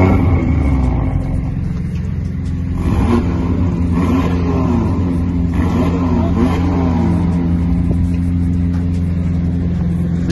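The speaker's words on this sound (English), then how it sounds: "So listen to the sound of the RS3." An Audi RS3 engine revs close by with a steady, loud rumble, its pitch rising and falling a few times in the middle before settling back to a constant drone.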